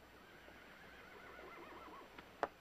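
A horse neighs with a rising whinny over faint outdoor ambience on a Western ranch, followed by a couple of sharp clip-clop knocks near the end.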